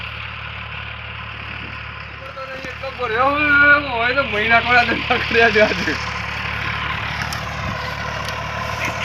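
A tractor engine runs at a steady idle throughout, with someone talking loudly over it partway through.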